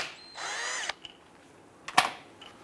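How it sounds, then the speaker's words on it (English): Power tool spinning a 14 mm socket to remove the plug on an AC compressor of a 2008-2013 Nissan Rogue: a short whirring burst, then a few clicks and a quick ratcheting snap, close and otherwise quiet. "Using our 14 millimeter socket, we want to go ahead and remove the plug here."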